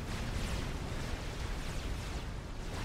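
Destroyed buildings exploding in Supreme Commander: Forged Alliance, a dense, continuous roar of overlapping blasts and rumbling debris, loud and unbroken from start to finish.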